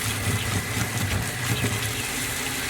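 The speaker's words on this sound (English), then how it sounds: "So just straight into a colander, and followed immediately by cold water to stop the cooking process." Freshly cooked rice for Persian jewelled rice is tipped into a colander and flushed with cold tap water, giving a steady, close rush of running, splashing water that lasts throughout with no talking.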